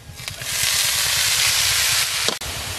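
Washed radish greens hit hot oil with fried onion and garlic in a pan, raising a loud, steady sizzle that hisses on with faint stirring and a brief clatter near the end.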